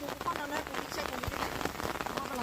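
Rain falls steadily in a rural field area, a soft, continuous patter of drops with scattered sharper taps, faint and close, with voices talking over it.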